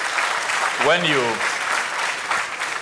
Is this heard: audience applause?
yes